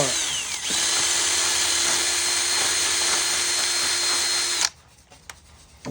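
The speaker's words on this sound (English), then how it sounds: "All you got to do is take your drill and run it back through it a couple of times" A power drill whirs steadily at high speed for several seconds, run through toy wheels to loosen them, close and loud, then cuts off abruptly, leaving a faint rattle.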